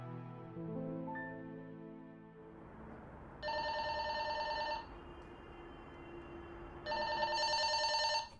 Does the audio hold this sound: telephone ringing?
yes